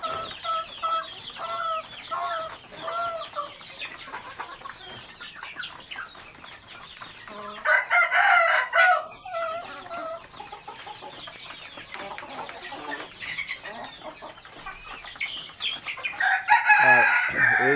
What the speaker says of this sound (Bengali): এই মোরগটা অনেক বড়, মার্শাল্লাহ অনেক বড় মোরগটা।